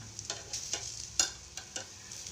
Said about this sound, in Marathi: आता एक साईडनं खूप छान भाजलेलं आहे आपण याला आहे ना आता पलटी करून घेऊ